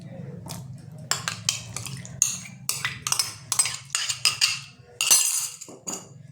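A spoon clinks and scrapes repeatedly against a mixing bowl while tutti frutti and raisins are folded into eggless plum cake batter, giving a series of sharp close metallic knocks with a low hum underneath.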